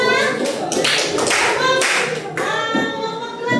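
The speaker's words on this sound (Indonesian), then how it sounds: "tepuk tangan untuk kelompok 2" A classroom of children applauds a student group, a dense burst of clapping that swells and fades over a few seconds, close and lively, with faint kid voices mixed in.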